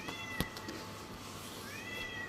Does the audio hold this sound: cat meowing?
yes